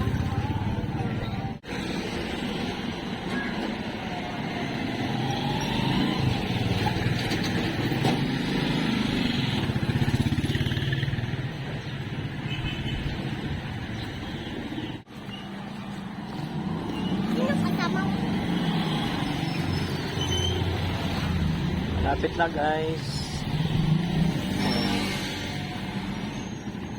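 Fast motorized tricycles and other vehicles pass along a busy town street during the morning school rush, engines droning steadily and swelling as they go by, with people talking over the traffic.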